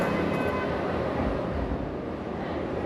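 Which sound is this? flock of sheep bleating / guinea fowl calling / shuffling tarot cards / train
train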